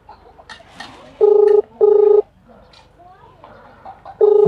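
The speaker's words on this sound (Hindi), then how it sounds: "घंटी जात हो।" A mobile phone call rings out, the outgoing ringback tone sounding as loud steady beeps in pairs, with short bursts of people talking between the tones.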